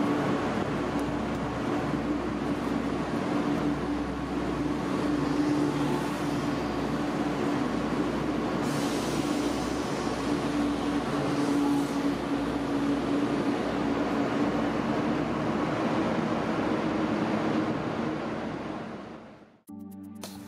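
Train traffic at Frankfurt main station fills the clip with a continuous low rumble and rolling hum of moving trains, steady throughout before fading out at the end.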